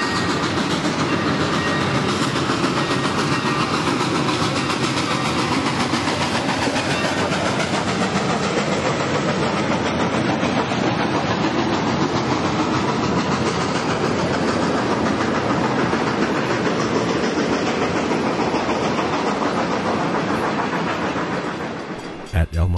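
Santa Fe 3751, a steam locomotive on a 2012 special to San Bernardino, works hard upgrade with a loud, sustained roar and steady rail clatter that hold for the full stretch before dropping away at the very end.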